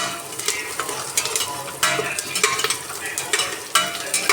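Onions frying in a pan for pongal, with steady sizzling broken by repeated scraping stirs every second or so, close and fairly loud, with no talking.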